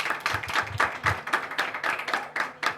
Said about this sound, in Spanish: Un aplauso para nuestros ponentes.